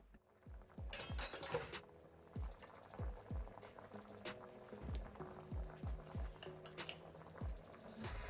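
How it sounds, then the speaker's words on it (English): Rice goes into a pot of rolling boiling water for mutton biryani, a burst of rattling grains and splashing followed by bubbling and repeated low thuds and clinks of a utensil against the pot, no voices. "Now let's add the rice."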